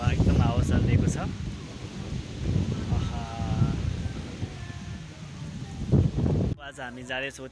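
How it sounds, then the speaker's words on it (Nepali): Strong outdoor wind rumbles and buffets the microphone in uneven gusts, with a voice speaking intermittently over the roar. "सो एकदम हावा चलिरहेको छ"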